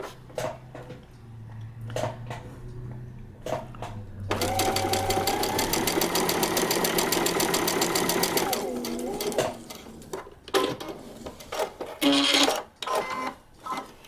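A sewing machine stitches a paper piecing quilt block in a steady, close mechanical whir of rapid needle strokes lasting a few seconds. Quiet taps and handling noises come before and after it.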